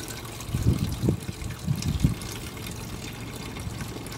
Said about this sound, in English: I'm gonna go ahead and fill this up with just a few inches of water.